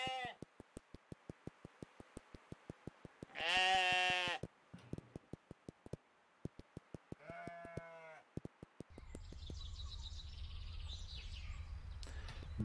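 Sheep in the video game Knytt Stories give two loud, close bleats over a rapid, regular ticking pulse, followed by a brighter bird-like chirping over a low steady hum.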